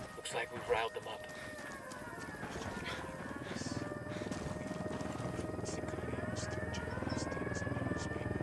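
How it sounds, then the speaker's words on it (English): A helicopter in the video game Ghost Recon draws nearer, its rotor beat growing louder and steadier beneath game voices and scattered effects. "Chopper inbound."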